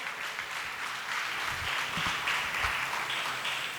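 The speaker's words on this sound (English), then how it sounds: "let's give a round of applause to Accolades Academy." An audience at a school extempore speech contest finale claps steadily for about four seconds, a moderately loud, even patter of many hands heard alone with no talking.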